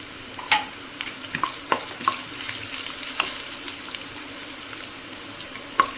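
Chopped ginger sizzles in a frying pan while being stirred for a homestyle pork fry, a steady hiss with scattered clicks and scrapes of the spoon, close and fairly loud, no voices.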